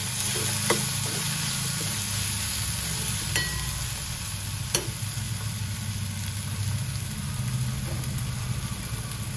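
Red chilli powder, turmeric, garam masala, salt and coriander sautéing in hot tempering oil for a kulith pithale, a continuous close sizzle and crackle with a few sharp spatula clicks.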